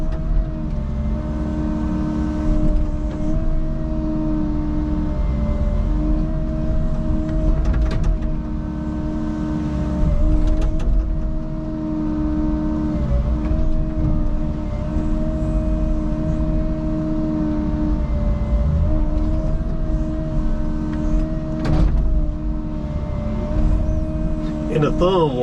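A Caterpillar 306 mini excavator runs in its middle power mode, with a steady, fairly loud diesel engine drone that holds an even pitch throughout, heard up close.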